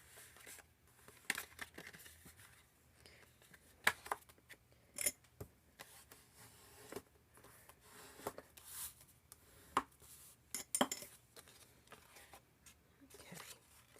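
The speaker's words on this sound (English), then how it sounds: "Before I do that, I need to fold my card in half." A paper card being folded in half for a pop-out tunnel card, with soft crisp creases, rubs and crinkles in scattered brief bursts, close and quiet.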